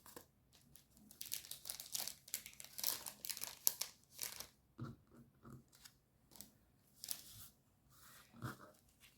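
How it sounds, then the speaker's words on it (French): Paper card edges being trimmed with scissors for winter-themed artist trading cards: repeated crisp snips and light paper crinkling in irregular bursts, close and fairly quiet, with no talking. "il faut que je recoupe tous les bords blancs"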